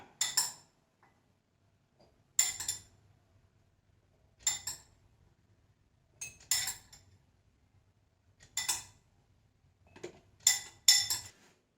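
Pieces of ginger dropped into a clean, dry glass jar for ginger honey: sharp, bright clinks in about six separate bursts, roughly two seconds apart, close and otherwise quiet between.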